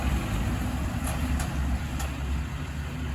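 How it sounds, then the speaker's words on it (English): A truck delivering a new TYM T25 25-horsepower hydrostatic four-wheel-drive tractor and a bush hog rumbles steadily nearby with a low, continuous engine drone. "There comes our new tractor in the bush hog"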